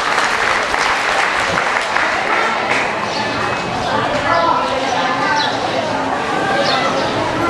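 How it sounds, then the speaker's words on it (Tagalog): An audience at a graduation ceremony claps steadily and loudly, sustained applause filling the whole moment as a voice talks over it. "Palakpakan po natin."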